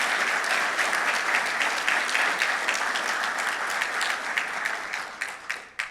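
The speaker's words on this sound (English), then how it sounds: "I think we ought to give him a round of applause right now for bringing it home." A crowd at a cable company launch event gives a loud, sustained round of applause, dense at first and then thinning into scattered claps near the end.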